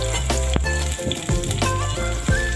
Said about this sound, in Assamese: এতিয়া পিঁয়াজখিনি দি ভালদৰে লৰাই দিম